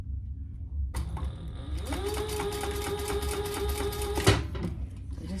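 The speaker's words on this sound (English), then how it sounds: "I am gonna just put 1 row of stitches here." A sewing machine runs a single row of stitches across a fabric travel pouch, a steady mechanical whir with a rapid needle rhythm that holds for about three seconds and then stops.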